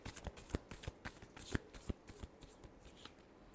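Tarot cards being shuffled by hand, a quick run of crisp riffling bursts and soft slaps in an uneven rhythm, close but fairly quiet, with no speech.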